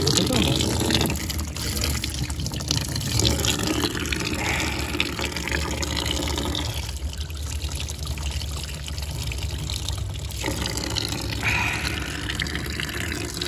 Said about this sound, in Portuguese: Também tem aqui, ó, água da nascente, tá? Que gostosa.